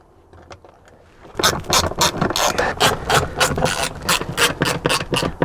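Cover plate screws going into an Audi A4 fuel level sensor, a quiet start and then a loud, close run of rapid ratcheting clicks as a tool drives them in.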